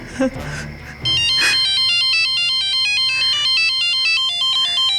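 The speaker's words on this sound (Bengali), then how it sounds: "সুরেখা, কাঞ্চনের ফোন" A phone rings in a Bengali crime drama scene, sounding as a loud, steady electronic ringtone of repeating high tones that holds from about one second to the end, after a brief noisy opening.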